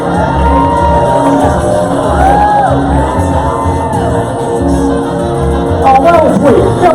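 A fashion show audience at Wild Wild West Con X cheers loudly and continuously, with whoops and shouts from many people rising over a dense crowd roar.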